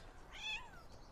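A single short, faint meow from a cat, rising then falling in pitch, heard alone against quiet background.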